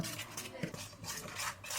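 Utensil scraping and clinking against a bowl as kimchi seasoning is stirred with salt and water, soft close scrapes in an uneven rhythm, fairly faint.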